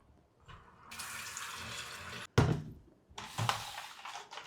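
Tap water runs in a steady stream into a kettle, stops briefly after a clunk, then flows again, close by.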